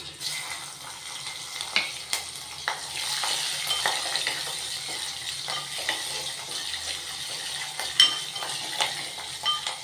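Dried red chillies frying in a pan with oil for a Telugu curry, giving a steady close sizzle with scraping stirs and light clinks throughout.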